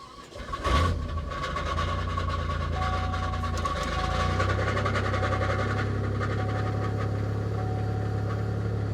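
A car, probably a Mercedes bought from a salvage auction lot, is started again and settles into a steady low idle with a noticeable exhaust tone. It comes in with a brief loud crank burst and holds close and constant with no talk.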